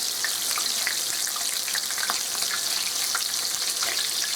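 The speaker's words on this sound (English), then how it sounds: "Says to cook them about 2 minutes on each side." Shrimp sizzle and fry in a hot pan, a steady, bright crackling hiss with small pops that continues evenly throughout.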